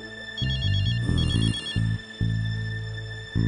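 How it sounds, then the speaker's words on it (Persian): A telephone rings in a hospital: repeated electronic trilling bursts, close and clear, separated by short pauses over low background hum. "تلفن زنگ زد و من جواب دادم"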